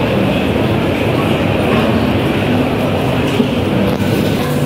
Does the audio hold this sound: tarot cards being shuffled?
no